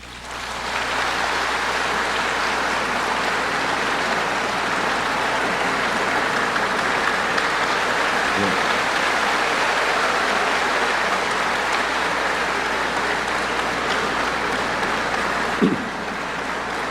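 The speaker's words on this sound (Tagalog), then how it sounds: "Kokonti ang mga congressman na pumapalakpak." Congressmen applaud during a 1998 State of the Nation Address in the Philippine House, a dense, steady wash of clapping that holds loudly and evenly for the whole stretch, with no voices heard over it.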